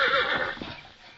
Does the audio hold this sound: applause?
no